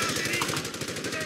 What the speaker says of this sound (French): Un sniper qui tire, mais je vois pas où.